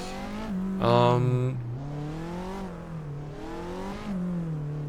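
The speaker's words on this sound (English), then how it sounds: "Wow, this car has a great sound" A race car engine in the video game Assetto Corsa EVO revs and drones with rising and falling pitch, a sharp surge early on, steady and close throughout.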